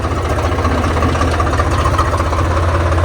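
A tractor engine runs in a field during soybean sowing, giving a steady, loud, low rumble with an even throb throughout and no voices.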